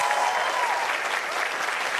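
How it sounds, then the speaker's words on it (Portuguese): A television talk-show studio audience breaks into loud, dense applause, a continuous wash of clapping with a brief tonal note sliding underneath at the start. "Palmas para elas."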